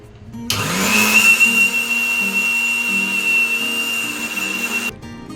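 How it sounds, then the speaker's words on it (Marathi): A kitchen mixer grinder spins up to a loud, steady whirring roar with a high whine as it grinds dried spices and turmeric into a fine powder for an herbal tea blend. It runs for about four seconds, then cuts off abruptly. "आता आपल्याला हे सगळे मिक्सीवर बारीक ग्राइंड करून त्याची पावडर करायची आहे."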